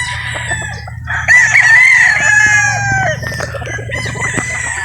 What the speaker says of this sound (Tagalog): Yan po mga bossing napakagwapong manok.